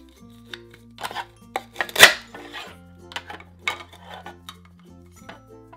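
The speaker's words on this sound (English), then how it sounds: "Now that all of our fruit and veggies are clean, let's cut it up." Plastic toy knife cutting through a toy pear, giving sharp clacks and snaps, with one louder crack near the middle, over soft background tones.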